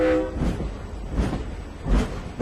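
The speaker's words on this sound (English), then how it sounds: "jumps aboard a slow-moving freight train headed north" A slow-moving freight train rumbles steadily with low, heavy rolling noise and periodic swells of rail clatter, continuous and fairly loud, with no voices.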